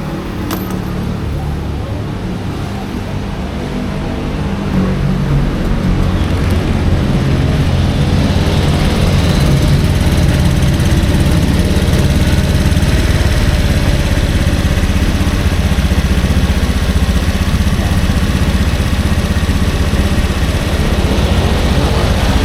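A motorcycle engine with a newly replaced spark plug cap runs steadily at close range, a loud continuous low rumble and idle throb that grows slightly louder after a few seconds and holds without breaks.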